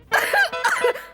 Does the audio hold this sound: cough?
yes